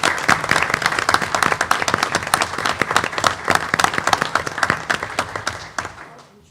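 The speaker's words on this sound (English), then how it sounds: "How about a round of applause for these fine young people?" A room at a Plainville Board of Education meeting applauds students who brought their robots; crisp, distinct claps from a modest crowd, steady at first and thinning out toward the end.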